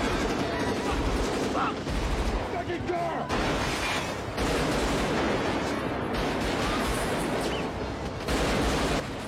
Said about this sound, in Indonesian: terjadilah aksi tembak-menembak di tengah kota yang lumayan realistis